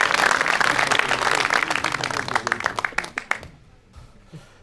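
Audience applause at a comedy stage show, a dense burst of clapping that thins into scattered individual claps and fades out within a few seconds.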